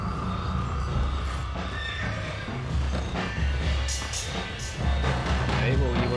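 A horse whinnies inside Red Dead Redemption gameplay, a short neigh rising over a dense mix of game sounds, gunfire and chatter, with voices talking throughout.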